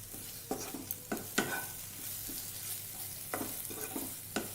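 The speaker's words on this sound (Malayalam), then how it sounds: "ഇതിൻ്റെയൊക്കെ പച്ചമണം മാറുന്നവരെ നമ്മളൊന്ന് ചൂടാക്കണം എല്ലാം ഒന്ന് ചൂടാക്കാം" Spice masala for cauliflower kurma frying in a pan, with soft sizzling beneath intermittent scrapes and knocks of a spoon stirring it, quiet and close.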